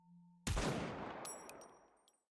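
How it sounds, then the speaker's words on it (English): A single loud gunshot in the video game DOOM II: Hell on Earth, with a sharp broadband blast and a long decaying echo tail after a quiet tonal hum, with no talk over it. "Single gunshot rings out."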